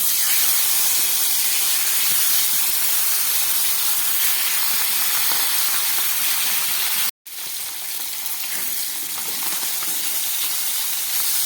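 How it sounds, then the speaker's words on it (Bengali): Nigella seeds dropped into hot oil in a wok give a loud, steady hiss of sizzling that cuts out for a moment and then carries on a little quieter, close by and with no voices. "খুব তাড়াতাড়ি রান্না করার জন্য আমি একটা কড়াই বসিয়ে তার মধ্যে তেল দিয়ে দিই। তাতে দিয়ে দিচ্ছি কিছুটা কালো জিরে ফোড়ন।"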